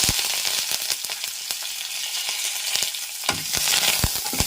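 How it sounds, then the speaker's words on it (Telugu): Ajwain, cumin, dried red chilies and curry leaves fry in hot oil, giving a steady bright sizzle with crackling pops and scattered sharp spatters, loudest near the end. "ఇప్పుడు వాము కూడా వేద్దామండి. చక్కగా వేగాలి కదా."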